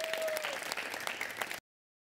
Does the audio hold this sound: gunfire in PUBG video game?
no